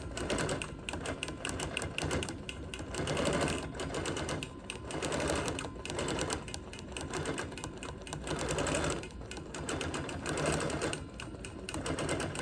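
A sewing machine quilts over an area of a project, running close and steadily with a rapid rhythmic chatter that swells and eases in repeated waves as the fabric is guided.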